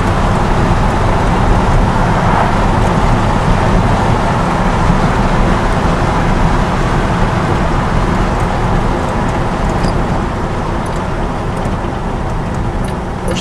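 A 1954 Ford F-100 truck with a single-in, dual-out 2.5-inch exhaust idles steadily, giving a loud, close, continuous rumble that stays even throughout with no voices.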